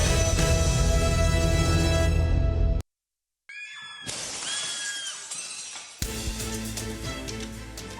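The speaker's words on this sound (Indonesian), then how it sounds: "Akibat hantaman cukup keras, kaca hancur berantakan." A restaurant's glass window shatters as a driverless electric taxi reverses into it: a loud, dense crash and tinkling fragments, a sudden drop to near silence, then further bursts of breaking and clinking glass.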